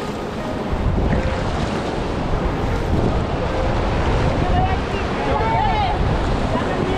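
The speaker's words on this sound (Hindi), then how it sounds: "रैपिड देखो कितना लंबा है, फर्स्ट मेजर रैपिड भी है।" River rapids on the Ganges at Rishikesh heard from a rafting boat, a loud, unbroken roar of rushing water mixed with wind buffeting the microphone, with faint shouts in the background.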